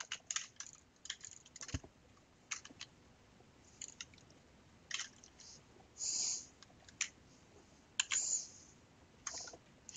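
A computer keyboard that is playing up is typed on in scattered bursts, with sharp individual key clicks close by and quiet gaps between them.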